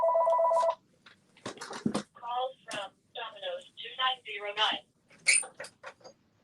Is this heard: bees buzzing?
no